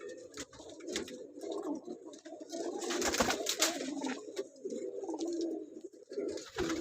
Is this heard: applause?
no